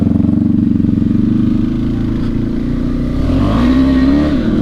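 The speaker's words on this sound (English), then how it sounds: "oh yeah, you can hear it come up in revs now" A KTM 390 Adventure motorcycle engine idles with a pulsing chug, then revs up, pitch rising and falling as the throttle opens, close by.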